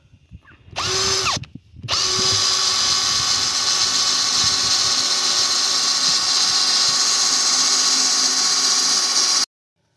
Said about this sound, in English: So when I drill my pilot hole, I'm going to have, there's my guide.